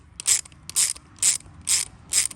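A ratchet backs off the bolt on a valve spring compressor during a Barra valve spring upgrade, giving five loud, close bursts of clicking spaced about half a second apart, with no voices.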